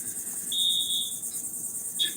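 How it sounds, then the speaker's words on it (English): A fire alarm goes off during a live stream, giving a high electronic beep that holds for about a second, then a second short chirp, against a steady background hum with no talk. "The fire alarm is going on"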